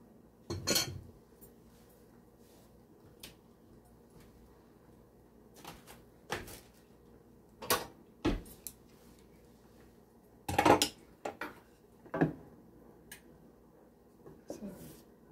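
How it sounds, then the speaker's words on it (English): Cornmeal being stirred in a pot for a Jamaican breakfast: scattered metallic clinks and knocks of a spoon against the pot, irregular and close, with quiet stretches between. "Keep stirring."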